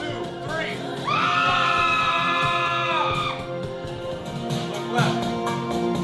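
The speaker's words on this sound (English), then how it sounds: "hope you grab a phone and scream into it" A person screams into a phone during a film-set lighting shoot, a long sustained high yell with overtones, with crowd whoops and cheering around it.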